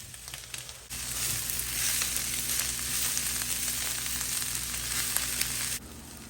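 Salted vegetables sauté in a pan for a Chinese dumpling meal, a dense hissing sizzle that swells up suddenly and holds steady for several seconds before dropping back to a quieter fry.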